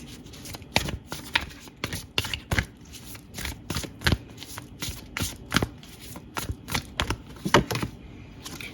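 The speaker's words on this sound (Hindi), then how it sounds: "कुछ ऑरिकल कार्ड्स और निकालते हैं" Oracle cards are shuffled by hand in a quiet room, a rapid run of crisp, close riffling and snapping sounds repeating irregularly throughout.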